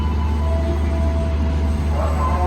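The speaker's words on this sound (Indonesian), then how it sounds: "KRL masuk dari stasiun Yogyakarta dengan tujuan akhir Alur" A KRL commuter train arriving at Lempuyangan station, a loud steady low rumble of rolling carriages with faint wheel squeal throughout, close by.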